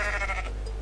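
A goat in the video game Goat Simulator lets out a single short bleat, close and fairly quiet over a low steady hum.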